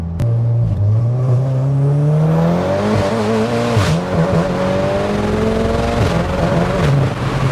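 An Audi S3 8V engine revs hard under full acceleration, pitch climbing steadily, dropping briefly at each gear change and climbing again; loud, heard from inside the car.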